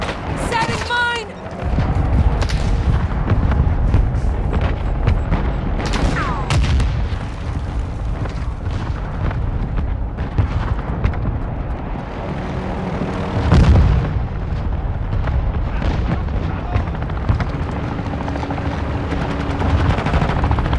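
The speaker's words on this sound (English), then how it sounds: "Hostile mortar strike near your position." Mortar strike explosions and machine-gun fire in Call of Duty: Modern Warfare II multiplayer, a continuous loud battle din of rapid gunfire with heavy booming blasts, while game announcer voice lines and talk sound over it.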